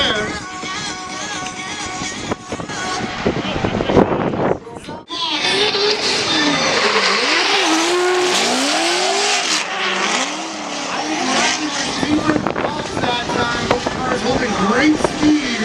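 Loud race car engines rev and whine with tires squealing as two cars drift through a corner side by side at a drift competition, continuous and close, with talk over the top.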